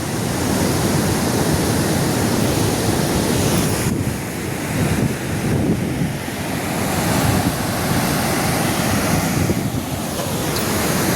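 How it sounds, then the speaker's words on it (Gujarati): River water rushes through the Mokeshwar dam gates in a loud, continuous roar, with wind buffeting the microphone now and then. "પાણી બહુ ચાલુ છે"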